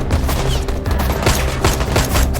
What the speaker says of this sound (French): un échange de tirs nourris a éclaté entre les 2 camps